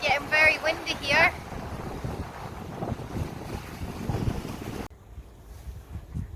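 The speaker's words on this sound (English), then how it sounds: "The sea's quite wild now. It's getting very windy here." Strong wind buffets the microphone with rumbling gusts by a wild sea at Millport on the Isle of Cumbrae, Scotland, and a person speaks briefly near the start.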